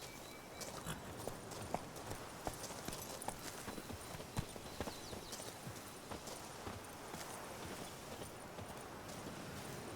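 Hooves of Roach, the horse in The Witcher 3: Blood and Wine, clip-clopping in a steady walking rhythm, faint and fairly close over a soft ambient background.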